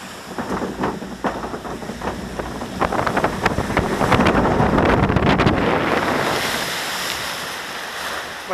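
A Dorney Park water ride boat plunges down its final drop, throwing up a loud rushing splash that swells mid-clip and then settles into a steady wash of spray and wind.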